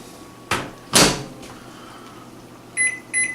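Microwave oven being loaded and started: a door clunks open and shut, then two electronic beeps sound from the keypad, with no voices.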